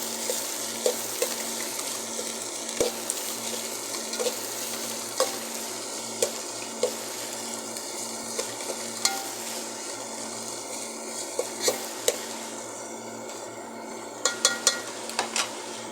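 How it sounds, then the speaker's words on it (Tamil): Green chillies frying in a pan for chicken curry are stirred with a spoon, giving a steady soft sizzle broken by scattered sharp scrapes and clinks that bunch up near the end, with no talk over it. "காய பச்சை மிளகாய் ரெண்டையும் போட்டாச்சு கொஞ்சம் திரும்பி விடலாம்"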